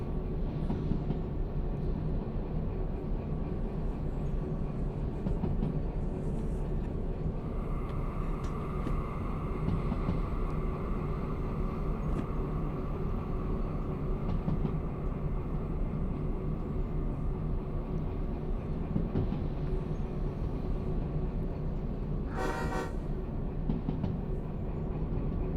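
A train rolling on rails in the game Derail Valley, a continuous low rumble with rhythmic clickety-clack of wheels, a sustained tonal whine joining partway through and a short sharp burst near the end.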